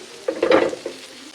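Onions and tomatoes sizzle in hot oil in a pan for chicken kuzhambu as a utensil stirs them, with a brief louder scrape before the frying settles into a steady hiss.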